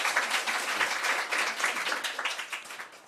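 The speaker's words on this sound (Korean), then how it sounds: "박수로 환영의 박수 해주시기 바랍니다." A church congregation applauding to welcome visitors, with dense, steady clapping from many hands that fills the room and has no voices over it.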